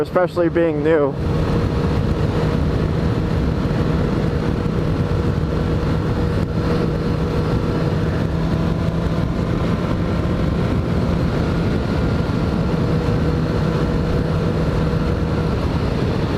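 A Suzuki GSX-S750 motorcycle is being ridden, and its engine holds a steady, loud drone under rushing wind the whole way through. A rider's voice is briefly heard at the start.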